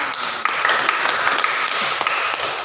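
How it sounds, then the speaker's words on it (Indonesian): Applause for a student at an orphanage classroom, a steady wash of many hands clapping, fairly loud and continuous throughout, with a few sharper individual claps standing out. "kita berikan aplaus bagi Minga"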